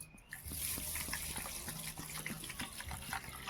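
Water pours into a bowl of kamini atap rice set aside to soak, a close, soft splashing gush with light trickles and small clinks, faint and steady throughout.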